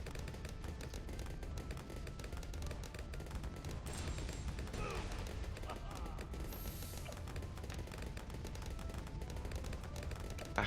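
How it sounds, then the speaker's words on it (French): Laser explosions in the tower-defense game Bloons TD 6 crackle in a dense, continuous barrage of rapid bursts, like layered gunfire, loud and unbroken throughout. "Parfait, un autre explosion laser."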